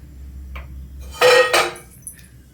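Pots and pans clatter in a home kitchen during cooking: after a faint tap, two loud metallic clanks ring out close by, followed by a small clink.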